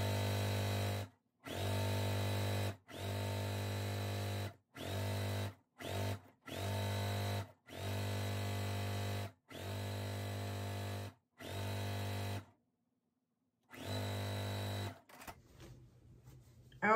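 A sewing machine stitching quilt strips together for a bargello quilt runs in steady motor bursts of a few seconds each, broken by short pauses and one longer gap, close and loud with no voices.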